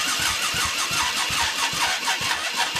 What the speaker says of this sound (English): I'm gonna actually just crank it over so you can see how long it'll crank